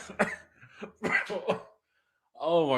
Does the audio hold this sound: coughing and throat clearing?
yes